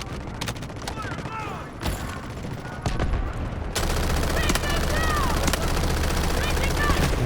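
Rapid bursts of P90 submachine gunfire in the shooter game Delta Force, sharp repeated shots with game effects behind, a voice talking in between.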